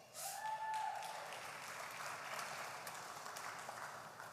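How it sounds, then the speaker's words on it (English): An audience at a business awards gala claps continuously, a dense, distant-sounding wash of many hands that stays fairly even throughout, slightly fuller at the start. "With that kind of applause, I wish Bridal Couture had also dressed me as well"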